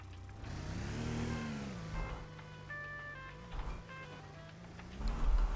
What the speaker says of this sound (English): so it actually sounds like a proper engine